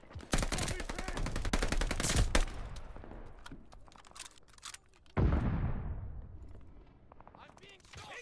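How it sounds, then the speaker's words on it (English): Gunfire in Call of Duty: Vanguard team deathmatch, rapid automatic bursts and sharp cracks blending into a dense loud barrage, then a heavy blast around midway trailing off, with voices shouting over the fighting. "I'm being shot!"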